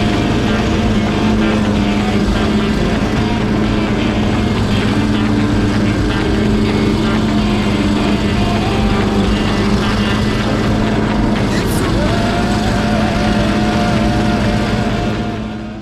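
A compact lawn mower engine drones steadily and loudly close by for the whole stretch, its humming tone holding constant with only slight shifts in pitch.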